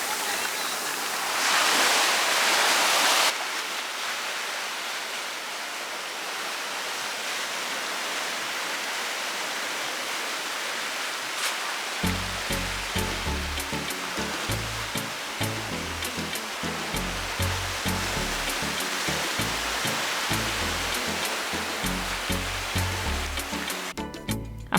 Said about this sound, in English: the waves just feel a little bit too high for me to be